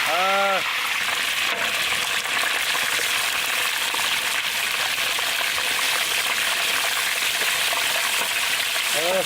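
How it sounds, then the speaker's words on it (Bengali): Carp fish frying in hot oil outdoors by a mustard field, giving a steady, loud sizzling hiss throughout, with a brief voice at the start and end. "মাছ ভাজি করে নেবো, কড়া করি বুঝছো।"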